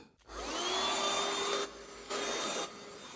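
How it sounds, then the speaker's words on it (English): A vacuum cleaner sucks dust out of an electric guitar, a steady loud whooshing roar with a whine, briefly dipping twice as the nozzle is moved or pulled away, then resuming. "I'm just going to hoover that out a bit."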